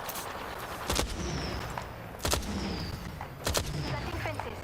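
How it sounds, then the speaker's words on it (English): Gunfire in a video game: a few loud isolated shots spaced about a second or more apart over a steady hissing background, each one sharp and close. "Opening fire."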